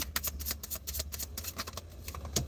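Playing cards shuffled by hand at close range, a rapid run of crisp riffling clicks and flutters in uneven bursts, with no voices.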